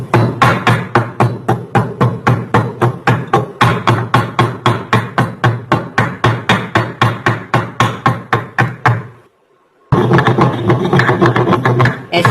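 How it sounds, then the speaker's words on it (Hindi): Cardamom pods pounded by hand in a mortar, a long steady run of sharp, evenly spaced close thuds at a quick rhythm, pausing for about a second before the pounding resumes. "ऐसे आप लोगों ने इलायची को अच्छे तरीके से पीसे।"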